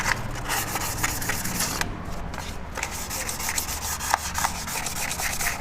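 Sandpaper rubbed back and forth over a car's clutch and flywheel surfaces during a clutch plate replacement, a loud, close, continuous scraping in repeated strokes with one brief pause.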